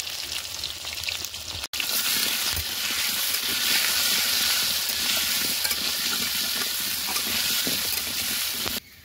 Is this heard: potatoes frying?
yes